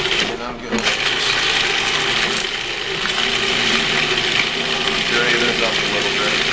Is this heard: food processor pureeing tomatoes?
yes